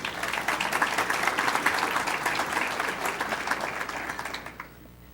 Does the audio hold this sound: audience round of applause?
yes